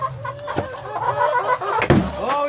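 Ducks in a farm pen calling with repeated quacks and clucking sounds, fairly close and steady, with a louder burst near the end.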